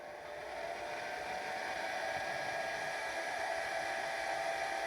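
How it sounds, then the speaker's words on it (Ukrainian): A hair dryer powered from a battery through an inverter whirs steadily at close range, a constant airy roar with a faint whine, running alone without pause. "фен"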